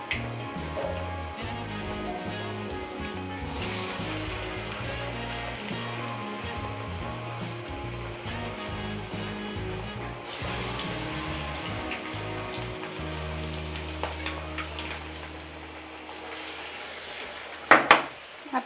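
Chana dal and masoor dal kachri fry in hot oil, making a dense, steady crackling sizzle. Utensils clatter briefly toward the end.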